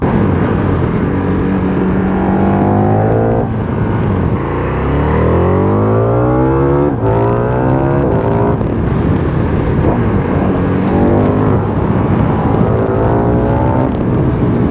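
A KTM 1390 Super Duke R motorcycle accelerates hard, its engine note climbing through several gears in rising sweeps, loud and close, with a brief dip in between shifts and no talk.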